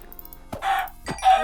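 A chicken in the video game Minecraft gives two short clucking calls, clear and close, separated by about half a second of near silence.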